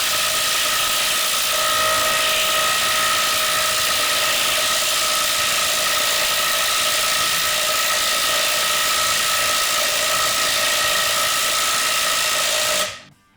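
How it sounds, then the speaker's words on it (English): A Makita 18V LXT XPT three-speed 1/2-inch cordless impact wrench spinning at its high speed setting, a loud, steady, close whine that holds for about thirteen seconds and then cuts off abruptly. "that is the fastest that this impact wrench will go"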